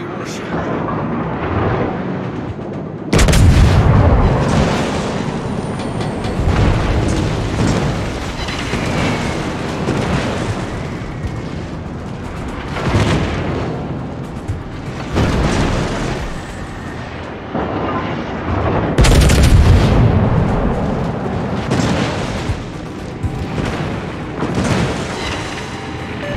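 Warship guns firing in a naval battle game, deep booming salvos that rumble out loudly at intervals over a constant roar of engine and sea noise, with brief voice callouts.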